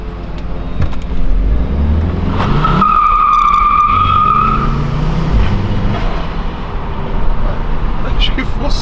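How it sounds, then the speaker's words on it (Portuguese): A 2013 VW Fusca 2.0T does a burnout on new Momo M3 tyres: loud, sustained tyre screech and skidding over a revving engine, with voices talking nearby. "fazer um primeiro burnout pra segurança"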